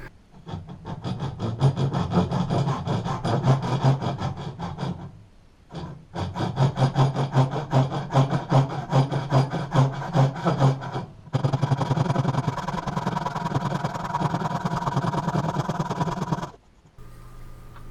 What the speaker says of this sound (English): Then I use a tenon saw to cut the slot for the wedge